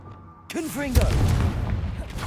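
A Confringo blasting spell in Hogwarts Legacy erupts as a booming explosion right after a shouted incantation, with a heavy rumbling tail that lingers for over a second.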